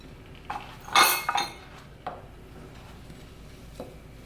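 A utensil knocking and clinking against a bowl as flour and oatmeal are stirred, a few sharp close clinks then sparse lighter taps in a quiet kitchen.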